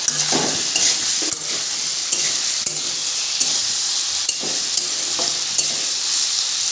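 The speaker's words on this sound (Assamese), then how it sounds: "কুচিয়াখিনি অলপ ফ্ৰাই হৈ গৈছে" Pieces of eel fry in a pan for an Assamese-style dish, giving a loud, steady sizzle broken by repeated scraping stirs of a utensil against the pan.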